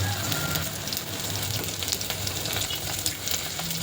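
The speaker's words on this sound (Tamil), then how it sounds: "இப்போ இது எல்லாத்தையும் கொஞ்சம் ஒரு கோல்டன் ப்ரௌன் கலரில் வெங்காயம் வதங்குற வரைக்கும் நல்லா அப்படியே நம்ம கிண்டி விட்டுடலாம்" Onions, green chillies and salt sauté in a pan with a dense, loud, continuous sizzle like close rain, punctuated by light clicks of stirring, with no voices.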